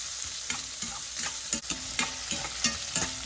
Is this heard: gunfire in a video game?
no